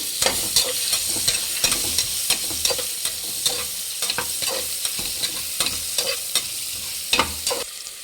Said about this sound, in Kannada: ಈಗ ಇದಕ್ಕೊಂದು ಕಪ್ ಈರುಳ್ಳಿ ಹಾಕ್ಬಿಟ್ಟು ಇದನ್ನು ಚೆನ್ನಾಗಿ ಫ್ರೈ ಮಾಡಿ